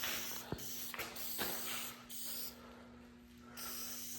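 Aerosol spray paint coats the dash of a 1965 Mustang in a few short, soft hisses at close range, quiet against a steady low background hum, with no voices.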